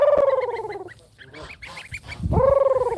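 Young bar-headed goose goslings call in loud, repeated honking peeps close by, a run of quick notes, a brief pause with softer chatter, then another burst of honks.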